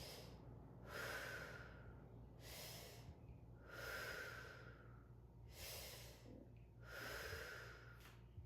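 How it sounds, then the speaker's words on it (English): Slow, deliberate breaths through the mouth during a lower-body fascia exercise, three audible inhale-exhale cycles with airy rushes and soft sighing exhales, close and quiet over a faint background hum. "3 breaths through the mouth."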